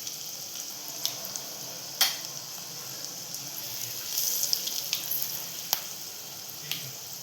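Asafoetida and turmeric drop into hot oil in a cooking pan, giving a quiet steady sizzle with a few faint ticks and pops and no talking.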